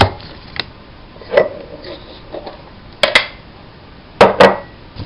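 A small metal spice tin being handled and opened, giving a few sharp metallic clicks and clanks spaced irregularly, with a double clack near the end, close and fairly loud in a quiet kitchen.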